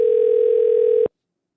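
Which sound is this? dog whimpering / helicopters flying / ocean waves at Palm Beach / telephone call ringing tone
telephone call ringing tone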